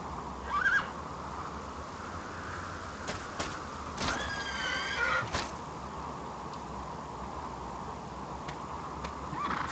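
A horse in the video game Dragon Quest VIII neighs in brief whinnying bursts over a steady hiss of game background sound, with no speech.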